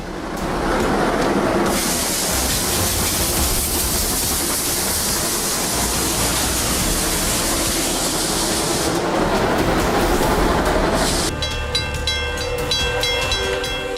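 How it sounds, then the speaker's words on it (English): A Japanese steam locomotive on its final run roars past close by with a loud, steady rumble and hiss, then gives way to a bright, clanging, bell-like warning tone near the end. "In 2018, a Japanese steam locomotive made its final run"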